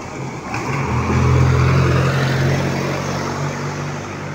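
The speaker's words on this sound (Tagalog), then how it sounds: "Palampasin mo muna yung mga sasakyan." Road traffic streams past a street crossing as a steady, loud, broad rumble of passing vehicles that swells and eases slightly, with no voices.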